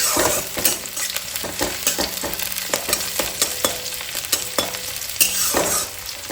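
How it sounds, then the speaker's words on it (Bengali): Chopped onions and black cumin fry in hot oil, a steady sizzle broken by repeated sharp scrapes and knocks of a spatula stirring the pan. "আজকে পেঁয়াজ ফোড়ন দিয়েছি, কালো জিরে আর পেঁয়াজ ফোড়ন দিয়ে করবো।"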